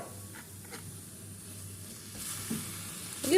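Chopped onion with cumin and spices sizzles softly in a pan, a quiet steady crackle and hiss with a slight swell toward the end.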